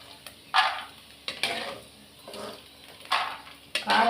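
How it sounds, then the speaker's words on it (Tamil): Dried vathal frying in hot oil over a low flame, heard as soft bursts of sizzling and crackling that swell and fade in several waves, close but fairly quiet, with no talk. "அதனால் நான் வத்தல் வறுத்துக்கிறேன்"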